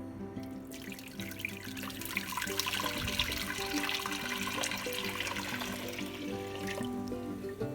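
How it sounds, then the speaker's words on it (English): Corncob liquid for jelly is poured from a container into a clean cooking pot, giving a steady, splashing stream of liquid that runs without a break for several seconds at close range. "So into my nice clean pot, same pot, but I did wash it. I'm gonna pour my liquid."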